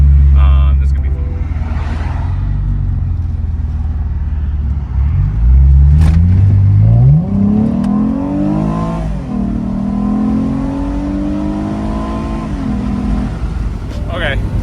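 Lexus IS300 in race throttle mode, its engine note climbing steadily as the car accelerates from a low rumble into rising revs, heard close from inside the cabin.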